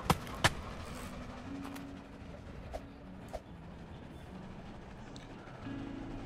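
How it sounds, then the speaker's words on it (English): A train rumbles along steadily in the Roblox game Lumber Tycoon 2, a low continuous run with a few sharp clicks and faint chirps on top, fairly quiet and with no speech. "I think the train is like one of the coolest things I've seen so far."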